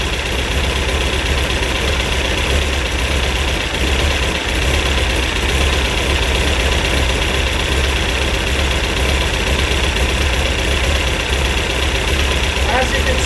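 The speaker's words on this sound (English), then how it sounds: "Got a pretty good idle." A car engine idling steadily close by, a loud continuous rumble with a faint knocking texture that holds unchanged throughout, with a voice speaking over it.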